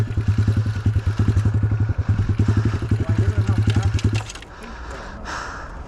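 A 150cc dirt bike idles with a fast, even, close-up thumping pulse while a learner works the clutch, then the engine note drops away near the end as a person speaks briefly.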